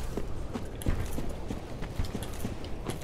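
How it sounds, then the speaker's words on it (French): Heavy, thudding footsteps of a large enemy in a cathedral area of the video game Dark Souls 3, a steady series of dull impacts under low background ambience with no talking. "J'entends des gros bruits de pas."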